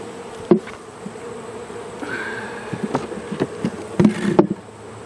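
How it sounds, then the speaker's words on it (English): Agitated honeybees buzz loudly and steadily around an opened hive after being brushed off frames with a bee brush, a dense close drone with a few sharp knocks and bumps and no talking. "If you've been brushing these bees off like this with a bee brush, they would be mad."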